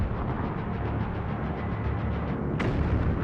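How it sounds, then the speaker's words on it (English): An old German battleship fires its 11-inch guns on fortifications in Danzig harbour in 1939. A single sharp report bursts out of a steady, rumbling hiss of archival noise. "An old German battleship opened up its 11-inch guns on fortifications"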